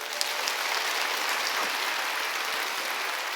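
A church congregation applauding during a Sunday worship service, a steady, fairly distant patter of many hands clapping with no voices over it.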